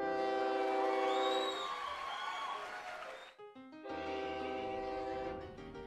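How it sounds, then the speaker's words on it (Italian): Trains arriving at a station in the OpenTTD video game, a synthesized horn blast and rolling rail sounds over a steady musical background, with a brief gap before the tones resume. "Adesso vediamo che un treno arriva in stazione e occuperà questo binario."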